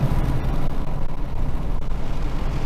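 Steady loud engine rumble from an MPT-tuned 3.7 V6 Ford Mustang with 3.73 gears, a dense low drone cruising continuously for a few seconds with no voices.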